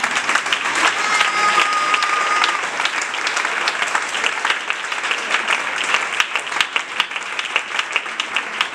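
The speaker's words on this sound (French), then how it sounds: "Acclamez le Seigneur." A church congregation at a Sunday evangelical service applauds, with loud sustained clapping from many hands filling the room and a few voices mixed in.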